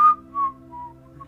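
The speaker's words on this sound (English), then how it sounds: "And I'm just sitting here whistling." A person whistles a few short, clear notes, a brief sharp opening tone followed by softer held pitches, close and alone.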